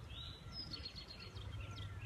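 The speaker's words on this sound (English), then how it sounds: "You hear the birds?" Faint birds chirp outdoors in a few short, high calls over a low steady background rumble, with no one speaking.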